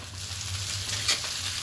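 Egg chow mein with vegetables and coriander leaves being mixed in a pan, giving a steady low frying sizzle with a single faint scrape of the utensil partway through.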